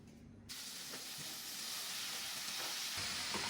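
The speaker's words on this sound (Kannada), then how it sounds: "ಈಗ ಬಾಂಡಿಗೆ ಫಸ್ಟ್ ಎಣ್ಣೆ ಹಾಕಿ ಅದನ್ನ ಫ್ರೈ ಮಾಡಬೇಕು" Oil hisses and sizzles in a pan on the stove, a bright steady frying noise that starts abruptly after a brief quiet moment and continues close and even.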